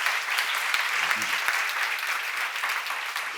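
Steady, full applause from an audience at a church seminar, with a voice briefly heard under the clapping.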